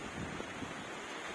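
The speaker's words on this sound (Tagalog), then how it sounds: "At saka lakas ng hangin at super lamig." Strong, cold wind on a rainy day at a farm, buffeting the microphone in a steady, loud, broadband rush with no clear pauses.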